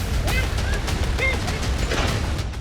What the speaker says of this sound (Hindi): दोनों देशों के सैनिक एक दूसरे पर गोलियां बरसाने लगे